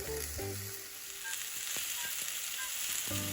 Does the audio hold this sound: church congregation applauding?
no